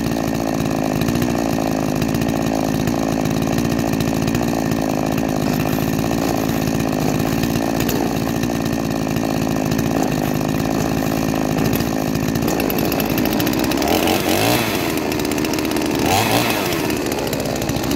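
Ported and machined 45cc Chinese chainsaw running continuously at high revs, a loud, close, buzzing two-stroke whine that holds steady throughout with slight load changes toward the end.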